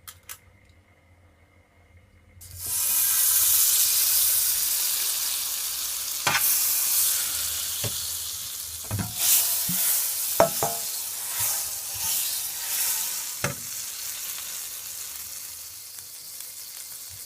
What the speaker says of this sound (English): It's on the stove. So I'm just gonna add some butter to it.